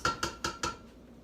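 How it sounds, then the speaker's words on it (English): Four quick clinks of a utensil against a pan as sauce is dumped in over cumin-coated chicken and broccoli for butter chicken, evenly spaced and close, then a faint fading ring and quiet. "then you're going to dump in your sauce."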